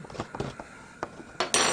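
A UCO Switch spork scrapes and clinks while stirring rehydrated food inside a Mountain House pouch, with several short close taps followed by a louder rustling swish at the end.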